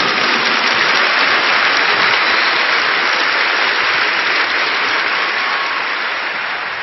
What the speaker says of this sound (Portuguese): Give the Lord a big clap for